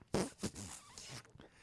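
A person imitates a fart with the mouth, making a couple of short sputtering bursts and then a longer buzzy one, close and fairly quiet.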